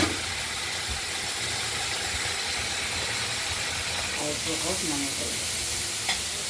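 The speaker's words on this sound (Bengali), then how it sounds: "ফুলকপিটার ভাজা এখনো চলছে এগুলো একটু পোড়া পোড়াভাবে ভেজে নিলে ঝোলটার খুব টেস্ট হয়" Cauliflower florets frying in a pan for a spiced potato-cauliflower curry, giving a steady close sizzle and hiss with some stirring scrapes throughout, with no one talking over it.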